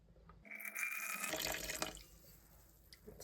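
About 120 grams of water poured into a sourdough starter, a faint, brief run of trickling and splashing lasting a couple of seconds.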